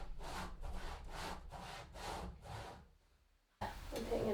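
Hand saw cutting through a rotten wooden floor joist in an old cottage, six steady back-and-forth rasping strokes, close and loud, then a brief pause and a harsher scrape as the blade strikes a nail.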